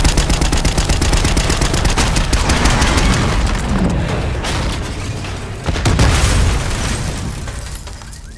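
Sustained, loud automatic gunfire rakes a limousine in a Call of Duty Black Ops 6 cutscene, rapid bursts layered with booms and impacts, dipping briefly before a heavy surge near the end.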